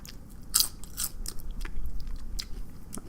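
Crunching bites of fried tempura shrimp tails, close up, with several sharp crisp cracks followed by steady chewing and irregular smaller crunches, no talking.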